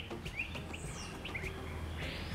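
A jungle bird gives short, bright chirping calls, several spaced notes over a steady background of insects and forest ambience, with no talking.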